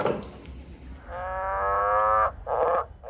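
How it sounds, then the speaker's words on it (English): Endangered green and golden bell frogs call with a drawn-out, buzzing, moaning croak, followed after a short gap by a briefer second call, over a low background rumble. "Green and golden bell frogs."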